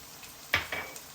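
Onions frying in a pan for broccoli upma: a quiet sizzle with one sharp scrape of a spoon and a couple of lighter stirring touches.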